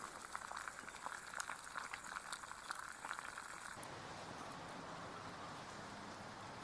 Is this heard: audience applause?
no